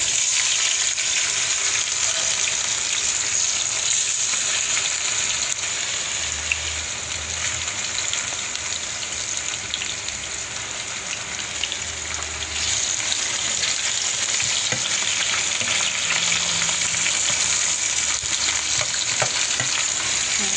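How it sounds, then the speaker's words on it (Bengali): Potatoes fry and are stirred in a pan of hot oil, giving a loud, unbroken sizzle with occasional low scraping and stirring sounds throughout, and no talking. "এখন ওখানে আমি আলু দিয়ে দেবো কিছু ফ্রাই করে দেবো।"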